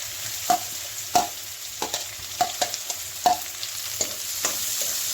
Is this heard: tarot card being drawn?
no